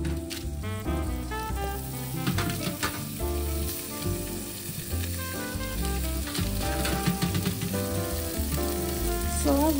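Steady sizzling of food browning in a frying pan for New Orleans gumbo, loud and continuous, with a busy layer of music or clatter running through it.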